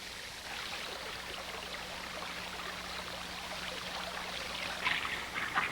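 Silver Bow Creek, a stream once carrying industrial wastewater, flows with a steady, even rush of water throughout, moderately loud with no voices.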